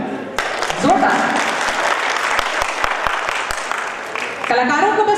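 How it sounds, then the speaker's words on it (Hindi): Loud, dense applause from an audience for performer Sulekha Kumari and her troupe at an International Women's Day event, sustained clapping with a few sharp claps poking through and a voice audible under it near the end. "तो एक बार इस शक्ति के लिए जोरदार तालियां आ रही हैं सुलेखा कुमारी और उनके सभी साथी।"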